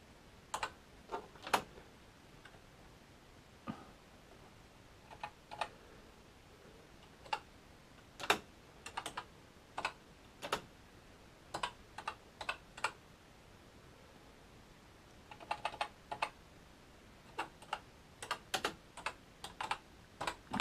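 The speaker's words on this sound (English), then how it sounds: "so I'll just try typing something." Keys clack on a BBC Micro Model B computer keyboard in sparse, irregular taps and short clusters, quiet and close with no voices.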